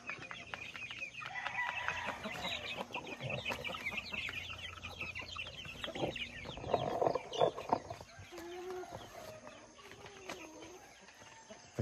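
Rhode Island chickens cluck steadily and close by, with overlapping bird calls continuing throughout and a louder burst of clucking near the middle.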